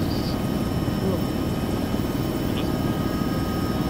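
A helicopter in a video game drones steadily with dense rotor chop and engine hum, loud and constant throughout, with a couple of faint electronic blips.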